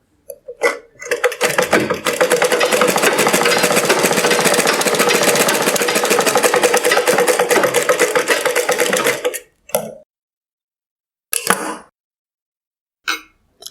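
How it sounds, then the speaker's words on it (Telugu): A sewing machine double-stitching a petticoat, a loud rapid steady run of stitching for about eight seconds, then a few short bursts separated by silence. "ఇలా డబుల్ స్టిచ్ చేసుకోండి."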